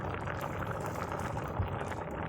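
A pot of mustard greens bubbles at a steady low boil, a soft continuous gurgling and simmering with no voices.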